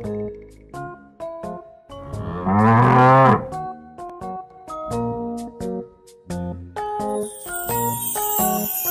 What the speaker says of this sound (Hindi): गाय